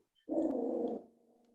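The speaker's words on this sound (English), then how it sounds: "what is that? That's my dog." A dog in a room gives a single low, drawn-out growling moan lasting under a second, fairly close, then fades into a quiet hum.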